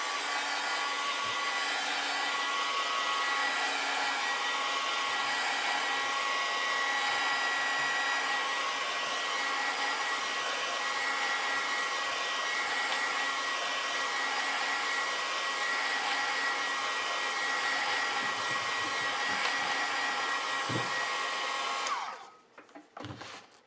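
A hair dryer dries watercolor paint for a winter scene, blowing as a loud, even roar with no break for over twenty seconds. It switches off near the end, followed by a few soft handling sounds.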